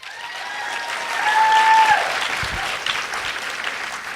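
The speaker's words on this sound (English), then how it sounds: "go ahead and clap" A live podcast audience on tour in Toronto claps and cheers, the dense applause swelling to a peak midway and then holding steady, with a brief whistle-like tone and some low thumps mixed in.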